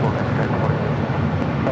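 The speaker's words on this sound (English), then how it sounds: "we do have Finnair heading up for a north side takeoff" Finnair airliner taking off on runway 24 left at LAX, a steady, loud broadband jet roar with no letup, heard alongside talk.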